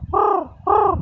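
A person imitates a crow with two drawn-out, nasal caws in quick succession, close and fairly loud, separated by a brief pause.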